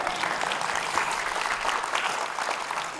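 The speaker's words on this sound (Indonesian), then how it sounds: "Kalau tepuk tangan yang keras." Loud applause from a congregation during a sermon on prayer: a thick, sustained wash of many hands clapping, steady and fairly close, filling the whole moment without speech.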